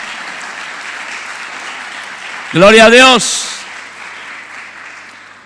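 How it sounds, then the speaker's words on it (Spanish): A church congregation at an anniversary congress applauds steadily in a hall, while one voice exclaims loudly over the clapping partway through before the applause thins out. "Dale un aplauso al Señor."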